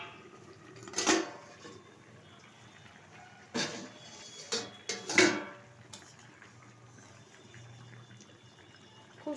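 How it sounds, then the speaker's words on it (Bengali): A lid comes off a cooking pot of potato, pointed gourd and boal fish curry, giving a few sharp metallic clinks and clatters spaced over several seconds against a quiet background bubbling. "ঢাকনাটা তুলে দিচ্ছি।"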